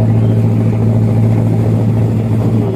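A twin-engine speedboat passes on a river with a steady, loud, droning motor hum that holds constant and close for the whole stretch.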